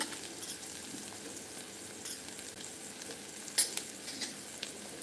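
Ground spices sizzle and fry in hot oil in a pan for a moong bhaji, with a steady soft crackle and a few sharper pops and stirring clinks, no talking.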